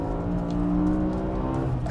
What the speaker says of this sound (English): Let's wind it out. It just revs and revs and revs and revs, and it just keeps going.